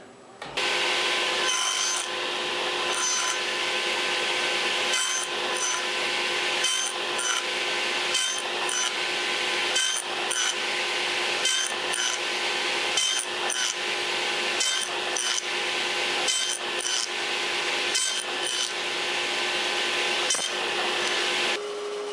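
A power saw cuts the haunch of a tenon in pine for a country wardrobe, a loud, continuous whine broken by short pauses as the wood is fed through, running steadily through the whole stretch.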